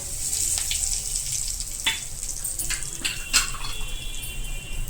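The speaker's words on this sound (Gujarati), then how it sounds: "અડધી ચમચી હિંગ નાખશું. લીલા લીમડાના પાન નાખી દેશું." Asafoetida and green curry leaves dropped into hot oil for a dry potato bhaji, crackling and sizzling steadily up close with sharp pops and spits scattered throughout.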